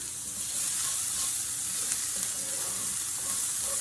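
Onions sizzling and frying in a pan for a one-pan chicken and rice dish, a steady bright hiss with faint stirring scrapes, close and continuous, no talking.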